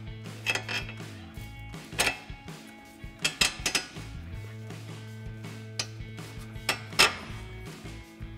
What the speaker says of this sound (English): we'll tighten that down with our 17 millimeter wrench and our 18 millimeter socket.